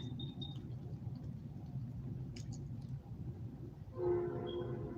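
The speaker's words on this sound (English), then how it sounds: "That's a train." A passing train rumbles low and steady outdoors, then a loud horn blast sounds near the end over the continuing rumble.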